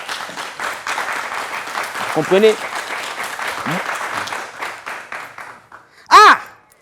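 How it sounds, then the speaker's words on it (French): Applause breaks out in an audience for a French-language talk on couples and sexuality, a steady broadband patter lasting several seconds with a voice speaking over it and a sharp exclamation near the end. "Applaudissez!"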